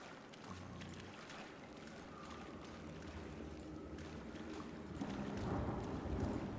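Rumbling thunder rolls through in the video game Pathfinder: Wrath of the Righteous, a low, faint, continuous grumble that swells toward the end amid ambient game sounds.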